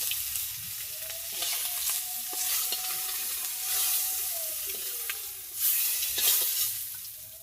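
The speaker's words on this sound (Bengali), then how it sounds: "মাছটা তুলে আনতেছি এদিও ভাজা হয়ে গেছে" Fish frying in a pan gives a steady, close crackling sizzle with bright hissing spatters and a few sharper pops across the whole stretch, without any voices.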